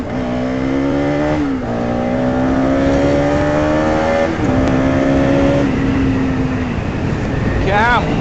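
A motorcycle ridden aggressively on a morning ride, its engine climbing steadily through gears with smooth revving pitch rises and brief drops between shifts, loud and close over wind noise.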